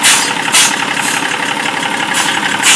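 Chevrolet D60 truck diesel engine idling after sitting for four years, a loud, close, continuous rough rumble with a steady knocking rhythm and periodic hissy bursts, alone without talk.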